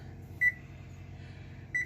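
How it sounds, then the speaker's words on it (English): An oven timer is set, giving two short, clear beeps about a second and a quarter apart over a low, steady kitchen hum, with no talking. "Okay, and then we are going to put the timer around"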